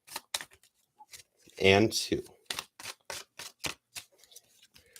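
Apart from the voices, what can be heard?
shuffling a tarot card deck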